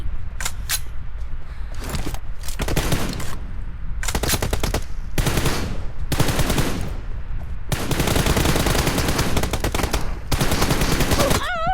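Rapid gunfire from a shooting video game: repeated bursts of automatic fire broken by short pauses, loud and close, running continuously through the stretch.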